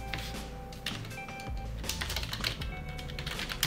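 A first and last name being typed on a computer keyboard, a brisk irregular patter of close, crisp key clicks over a faint background hum, with no one speaking.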